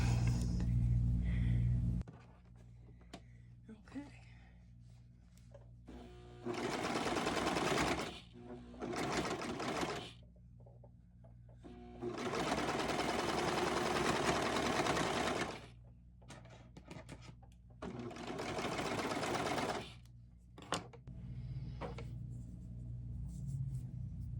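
A home sewing machine stitches a zigzag or fancy stitch along the neckline of a T-shirt for an 18-inch doll, running in four loud bursts of steady whirring separated by pauses with handling sounds.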